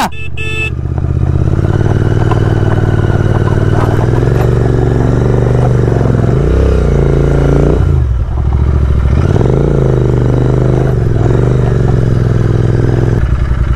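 Continental GT 650 motorcycle on an off-road climb revving hard as its tyre slips, a loud close engine drone rising and falling in surges, with dips around the middle and scraping clatter from the wheel throughout.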